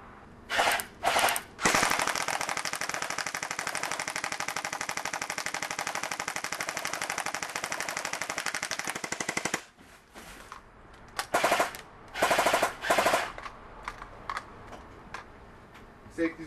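Airsoft BB guns fire in a long sustained burst of rapid full-auto shots, with shorter bursts before and after it. The shots are loud and close.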